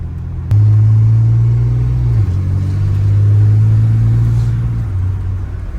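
A tuned car engine revs loudly nearby, holding a deep droning pitch that dips briefly, then rises again before easing off.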